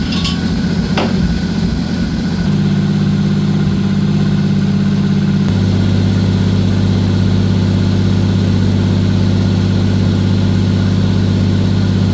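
A Toyota 1JZ engine idles steadily while warming up, fitted with Koyorad cooling mods; a sharp metallic clank sounds near the start, then a low, even idle hum runs on without talk.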